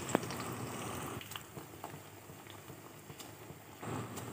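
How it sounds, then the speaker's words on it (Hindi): Chonga dough fries in hot oil with a faint, steady bubbling sizzle and soft patter, quiet and close, with a few small clicks. "अब देखिए तेल गरम हो गया, इसमें अब हम एक एक चोंगा डाल डाल के फ्राई करेंगे।"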